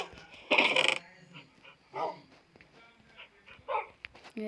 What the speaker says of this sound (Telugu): ఘోరంగా ఉన్నాయి గైస్ ఇక్కడ కుక్కలు